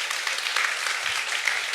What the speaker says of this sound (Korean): 최태성 선생님께 다시 한번 큰 박수